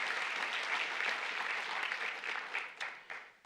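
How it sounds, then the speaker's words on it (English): An audience gives a school choir a round of applause, dense steady clapping that carries on for a few seconds before thinning and tapering off. "so I'd like to give them a round of applause as well"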